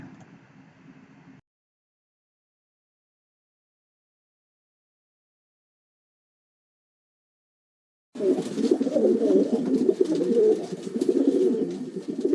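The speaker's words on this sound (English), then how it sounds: "Superstitious pigeons." Pigeons coo in a soft, continuous murmur after a long silence, preceded by a short faint noisy stretch.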